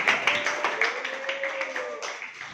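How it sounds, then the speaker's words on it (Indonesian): Scattered clapping from a classroom audience applauding a student group during a music ensemble lesson, quiet and fairly close, with a tone-like voice or hum running underneath. "mari kita beri tepuk tangan untuk kelompok"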